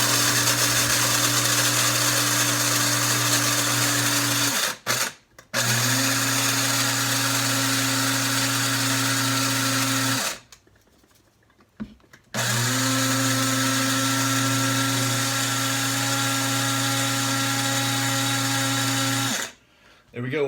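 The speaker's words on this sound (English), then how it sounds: "So I'm going to grind this coffee. It's going to be loud for a second." An electric blade coffee grinder grinds coffee beans with a loud steady whirring drone, running in three long bursts split by short pauses and a longer pause, no speech.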